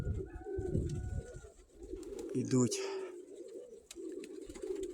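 Black pigeons coo in low, throaty murmurs while someone talks over them, with some fluttering and a brief bird call in the middle.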